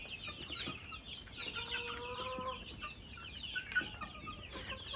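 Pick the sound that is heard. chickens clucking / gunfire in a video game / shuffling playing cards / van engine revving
chickens clucking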